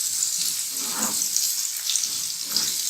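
Onions and green chillies fry in hot oil in a pan for a chana dal bharta tempering, giving a steady, close sizzle with faint stirring movements.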